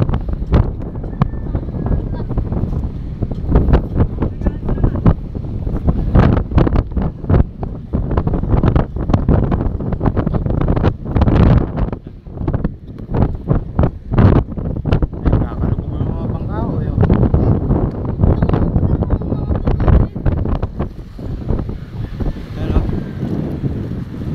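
Big waves crash and churn in strong typhoon wind at Navotas, with heavy buffeting gusts battering the microphone in loud, irregular surges while a person talks over the noise.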